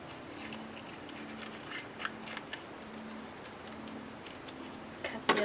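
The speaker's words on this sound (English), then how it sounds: "Cut the other side of the ribbon." Scissors snipping ribbon while making a gift tag for a card kit, soft close crisp snips scattered over quiet background, ending with a few louder clicks.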